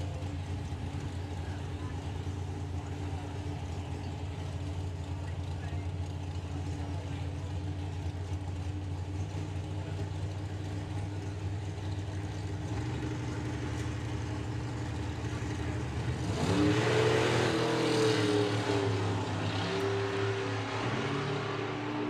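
Throttle stop drag racing at Festival of Power 2022, an O'Hare Racing Camaro against a 55 Chevy: a steady engine drone holds for a long stretch, then swells into a louder, rising roar near the end.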